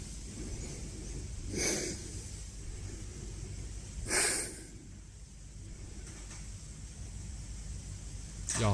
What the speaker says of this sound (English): Somebody's breathing like they're actually scared.